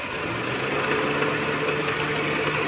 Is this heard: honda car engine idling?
yes